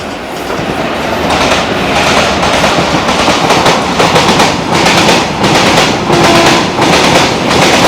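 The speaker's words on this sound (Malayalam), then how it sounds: "അത് ചരക്ക് വണ്ടിയാണ്" A loud, continuous rumble and rattle of a long freight train rolling past close by, with steady clattering of wheels over the rails throughout.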